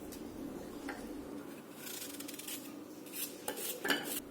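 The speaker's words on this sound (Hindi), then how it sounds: "तो दोनों एप्पल को मैं पहले टुकड़ा कर लेती हूँ।" Apples being chopped into small pieces on a kitchen board, with quiet irregular knife taps and clinks of utensils and dishes amid soft room noise.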